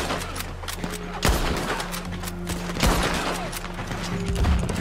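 Gunfire in the Red Dead Online video game: two loud, sharp shots a second or so apart, then a third weaker report near the end, over a steady low background hum with no talking.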